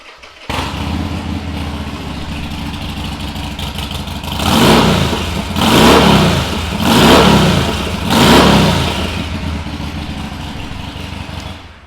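A 2016 Harley-Davidson Sportster 1200 XL T Superlow with a 1196 cc V-twin starts with a push button, settles into a loud, lumpy idle, then gets three distinct throttle blips, each swelling and falling back before it idles again.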